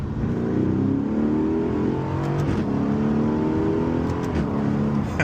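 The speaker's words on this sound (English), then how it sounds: "talking through the ferocious V8 in this Aston Martin" A deep Aston Martin V8 engine rumbles and revs steadily from inside the cabin, a loud continuous growl with rising and falling pitch.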